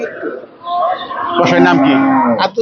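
A cow lets out a loud, drawn-out moo close by at a cattle market selling sacrificial cows, its low call rising and holding before breaking off.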